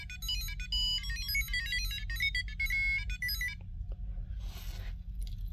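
A Tamagotchi toy plays a rapid, bright electronic beeping melody, fairly close, before it stops and gives way to a short burst of hiss, all over a low steady background hum.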